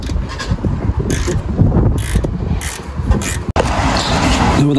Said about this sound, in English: remove the two 30mm bolts that hold the caliper to the carrier